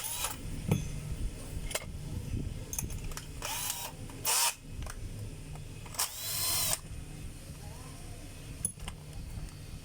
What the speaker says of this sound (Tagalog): Bubuksan na po natin yung grinder.